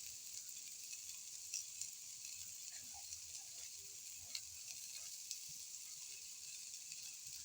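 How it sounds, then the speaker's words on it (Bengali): Flattened rice and vegetable khichuri is stirred in a pan, giving a steady, faint sizzling hiss with occasional soft scrapes and taps from the spoon, and no voices. "দেখো এভাবে আমি নেড়ে চেড়ে নিচ্ছি"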